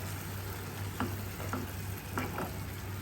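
Milk being stirred into cooked flour in a pot for a fish pie sauce, a soft, steady sizzle with a few light scraping strokes close by.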